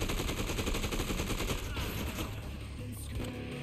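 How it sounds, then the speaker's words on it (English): Rapid assault rifle fire in Dead Rising 2: Off The Record, a loud continuous burst of shots that runs through the clip and fades slightly toward the end. "Ooh, assault rifle."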